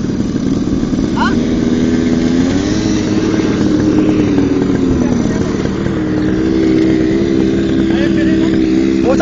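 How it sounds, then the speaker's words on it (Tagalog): A motorcycle engine drones steadily while riding in Saudi Arabia, a loud continuous hum with shifting pitch as the bike changes speed, with people talking over it. "ang bagal ng motor ko"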